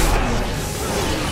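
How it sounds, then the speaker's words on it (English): A mana bomb spell explodes in the fantasy tower-defense game Dungeon Defenders, a loud, dense roaring blast that fills the whole moment without letting up. "Mana bomb!"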